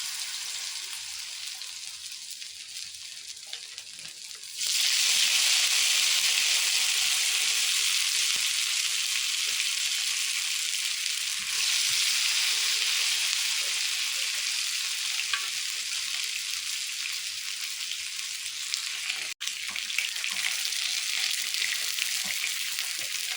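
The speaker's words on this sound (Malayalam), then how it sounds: "Chicken fry ചെയ്തെടുക്കാമേ." Masala-marinated chicken for biryani frying in oil, a steady loud sizzle that jumps up sharply after a few seconds of quieter crackling and then holds continuously with no talk.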